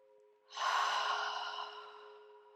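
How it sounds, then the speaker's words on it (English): A single deep breath is drawn in, close and soft, swelling after a brief pause and then easing off slowly, over a faint steady hum. "let's take another deep breath"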